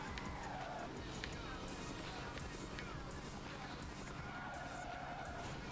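Car tires skid and squeal during drifting in the racing video game Fast & Furious: Showdown, a steady engine roar underneath with sweeping screech tones rising and falling, while a person talks over the game.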